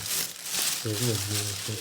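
A plastic bag holding shoe care items rustles and crinkles as it is handled, close and continuous, while someone speaks over the crackling.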